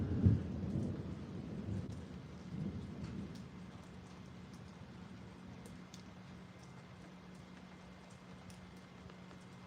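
Steady rain hisses in the background, with a low rumble of thunder at the start fading into the continuous patter.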